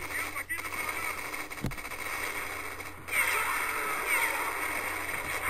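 Tank guns and machine-gun fire crackle in a Close Combat 5 Battle of Berlin game, the shots and rumbling combat sounding at mid distance under someone talking.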